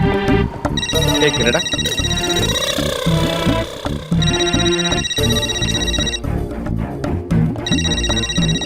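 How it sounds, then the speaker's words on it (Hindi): A phone rings with a repeating electronic ringtone melody under music, while people talk over it and a short spoken remark cuts in. "तेरा फोन बज रहा है"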